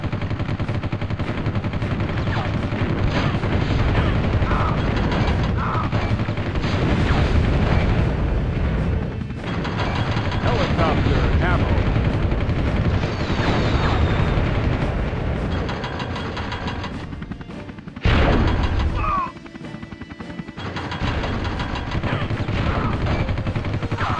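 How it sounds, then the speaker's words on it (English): Sustained rapid machine gun fire and explosions from the plastic toy-soldier helicopter game Army Men Air Attack 2, loud and nearly continuous with brief pauses and a short burst of heavier blasts. "Machine gun."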